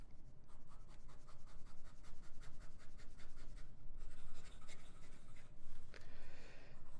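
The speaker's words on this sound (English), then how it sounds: "Get some fast writing." An Aurora 88 fountain pen with a broad nib writes fast on paper, a quick close run of soft scratchy strokes with brief pauses and no talk.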